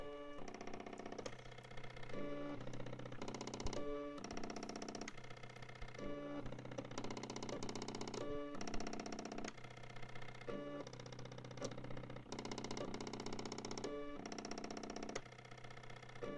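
A Colemeter mini laser engraving machine works on wood, giving a steady mechanical whir with repeating tonal patterns as it moves through its engraving passes, continuous and close throughout with no talking.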